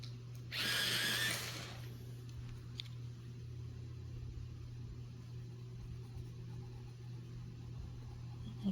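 A colored pencil, Castleton Green from an Artisto 72 set, is ground in a sharpener: one brief, close whirring burst of about a second near the start, followed by a steady low hum and quiet room tone.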